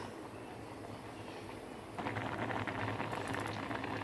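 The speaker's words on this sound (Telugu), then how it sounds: "ఇలా బాగా పొంగులు వచ్చేటప్పుడు ఉడికిపోయిందండి" Fish boils in a pot of water with steady bubbling. The bubbling grows louder and more vigorous about halfway through as the pot foams up. It is heard close with no talking.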